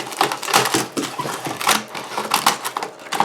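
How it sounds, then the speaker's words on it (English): Scissors cut a wavy bottom edge into the material of a ghost piñata, producing a quick series of close crisp snipping and rustling crunches in an uneven rhythm. "we're going to cut it just kind of wavy, like you would picture the bottom of a ghost looking"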